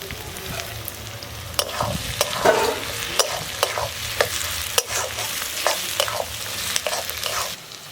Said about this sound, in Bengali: আদা রসুনটা একটু ভেজে নিয়ে দিয়ে দিচ্ছি টমেটো কুচি, চেরা কাঁচা লঙ্কা আর ধনেপাতা কুচি।